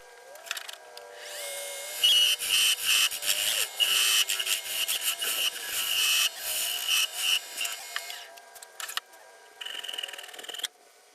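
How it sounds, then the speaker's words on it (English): Cherry wood being cut off a lathe chuck, a steady, fairly loud tool whine that carries through most of the clip, rising and falling in short bursts, with no talking. "Then we're going to cut this piece off from the chuck that it's in."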